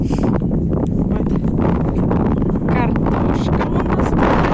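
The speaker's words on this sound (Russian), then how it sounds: "Ветер" Strong wind on a walk to a river buffets the microphone with loud, continuous low rumbling and roaring gusts that swamp everything else, while a voice is faintly heard beneath.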